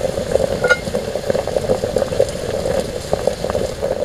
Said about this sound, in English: And now the water is boiling onto my kindling.